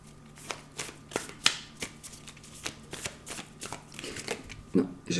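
Tarot cards are shuffled for a card reading, with a rapid series of sharp, close riffling slaps and flicks coming in quick irregular bursts, with no voice.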